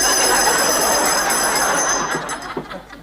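Pub closing-time bell ringing in an old comedy scene, a bright sustained ring that stays loud at first, then fades as faint noises follow.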